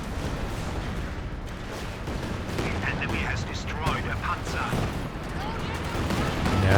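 Katyusha rocket artillery in Company of Heroes 2 pounds a battlefield in a dense, continuous stream of explosive bursts and crackling impacts, with a voice talking over the barrage.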